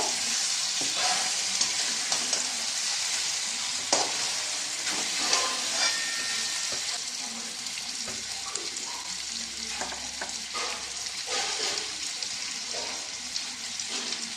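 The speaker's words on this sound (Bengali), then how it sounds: "অল্প অল্প করে চিকেনগুলো চলে যাচ্ছে আমাদের এই কষা মশলার মধ্যে" Chicken pieces sizzle and fry steadily in a spiced masala for chicken kosha, with intermittent stirring scrapes and a faint watery hiss throughout, close and continuous with no talking.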